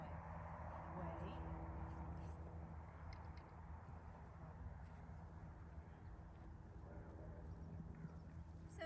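A horse walks on the ground with a soft clip-clop of hooves, then comes to a halt between piles of hay. The hoofbeats are fairly quiet, with some voice in the background.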